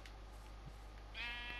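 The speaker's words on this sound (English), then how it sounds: "We can't lose the pink sheep!" A pink sheep in the Minecraft video game bleats once, brief and close, near the end of a short stretch of low steady background hum.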